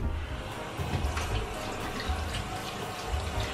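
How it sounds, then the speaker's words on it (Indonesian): Running water from a tap splashes steadily as a face is rinsed after a skincare treatment, a close, continuous wash of water with small irregular splashes. "Ini udah 2 menit. Jadi aku mau langsung cuci ya."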